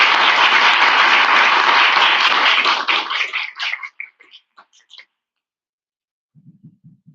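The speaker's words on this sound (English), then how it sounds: "Everybody give a big round of applause," Audience applause at a public speaking competition, a loud, dense burst that thins into scattered claps and stops around five seconds, followed by silence and a few faint low thumps.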